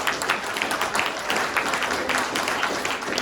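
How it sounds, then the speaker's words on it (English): Audience at an economics lecture giving a round of applause, loud dense clapping sustained throughout without pause. "let's give a round of applause"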